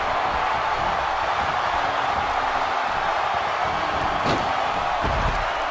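In a wrestling video game, a wrestler is slammed to the mat with a couple of sharp thuds over a steady crowd roar.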